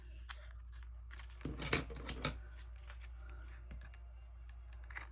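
Scissors snip through paper to make scrap collage tags, a few quiet crisp cuts clustered midway with small handling rustles around them, close and faint.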